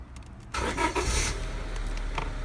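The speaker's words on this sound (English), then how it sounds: "I'll be able to start the car" A 1999 Honda Civic engine cranks and fires at about the half-second mark when its ignition wires are bridged by hand. It settles into a steady, close idle with no talking.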